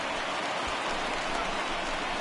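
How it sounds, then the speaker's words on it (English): Steady rain pouring down on a ballpark during a baseball game in the video game MLB The Show 20, a dense, even hiss filling the whole stretch with no talk. "the rain starting to intensify here. It's coming down a little heavier now"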